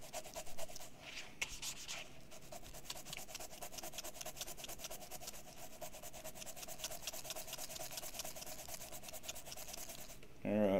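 Steady rubbing and scraping on the scratched surface of a model train, a continuous close abrasive rasp that runs throughout with a brief louder burst near the end.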